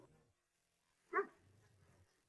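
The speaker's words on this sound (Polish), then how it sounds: "Kto warczy?" A giant shepherd dog gives one short, sharp vocal burst, then a faint, low rumbling growl, close by in an otherwise quiet room.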